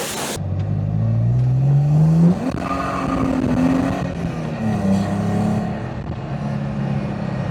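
BMW E46 330ci with a DriftShop exhaust doing a small burnout in front of a house, with a close, loud engine rev that climbs, then drops back to a rough, rumbling idle and settles low.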